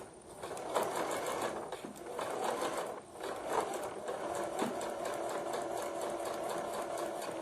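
Sewing machine stitching a narrow rolled cord hem, sewn slowly over pins with the needle offset, a continuous close whirring run of rapid stitches with a brief slowdown partway through.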